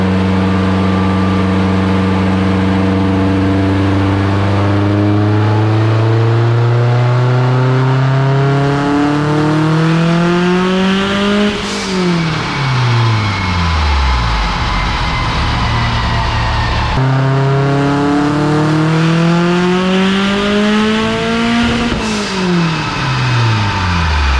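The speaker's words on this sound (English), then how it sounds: "So let's go flash this thing, throw her on the King's dyno." A turbocharged Subaru WRX engine on a dyno makes two long full-throttle pulls, rising loud and steadily to a high-rev peak before dropping away, close and with no talk.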